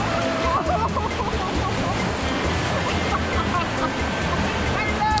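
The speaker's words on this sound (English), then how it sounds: "this is the most fun thing in the water park, in our opinion. We love the rapid river" Steady rushing water of a rapid river ride at the Atlantis water park in the Bahamas, a constant broad wash of churning current with no pauses.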